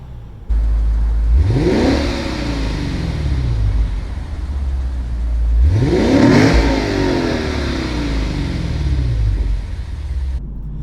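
A Lexus GS F engine in Sport S Plus mode revs hard twice, each burst climbing in pitch with a loud, rumbling exhaust, separated by a lower idle drone.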